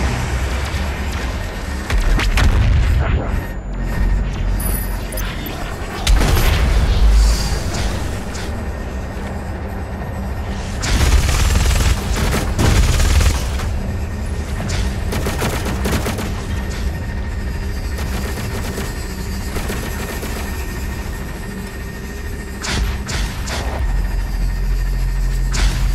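The BFG 10,000 fires in the first-person shooter Doom Eternal: heavy booming blasts and rumbling explosions recur over a continuous loud, crackling barrage, dense and close throughout with no voices.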